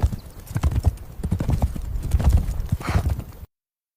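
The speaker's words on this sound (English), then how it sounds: "Now it's 2 horses racing" Hooves of two horses racing clip-clop in a fast, dense gallop rhythm, loud and close throughout, with a faint whinny near the end before the sound cuts off.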